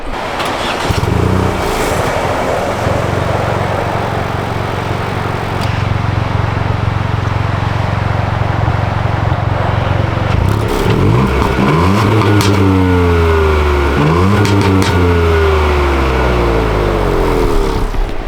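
A 2022 Ford Puma ST fitted with a cheap cat-back exhaust cranks and starts: a steady idle drone, then loud, close revs rising and falling several times.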